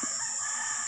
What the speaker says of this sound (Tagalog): marami nang tumitilaok na manok